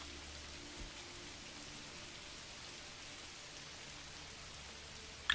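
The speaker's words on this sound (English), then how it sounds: "This has been a pretty rainy summer actually so far." Rain falls in the Manor Lords video game, a faint, even hiss of steady rainfall on surfaces with no voices and a brief click at the end.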